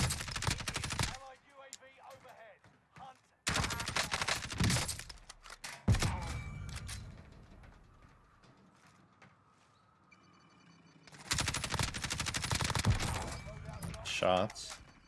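Gunfire bursts in Call of Duty: Warzone on Rebirth Island, loud clusters of shots at the start, around four to six seconds and again near the end, with quieter game noise between and a voice talking over it.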